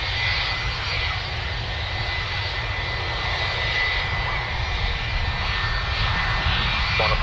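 An airliner's jet engines roar steadily at Birmingham Airport during a takeoff run, loud and continuous with a whining tone over a deep rumble.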